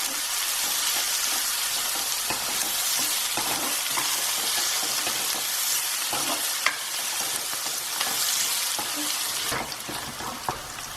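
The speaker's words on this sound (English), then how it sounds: "we're going to mix that through and saute the onions till they turn translucent" Onions and asafetida sauté in a hot pan with a steady bright sizzle, punctuated by scraping and clicks of stirring, close and continuous with no voice.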